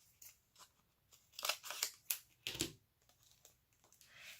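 Scissors snip through a sheet of craft stickers on its backing for a Halloween page kit, a few quick close cuts in short bursts with quiet pauses between.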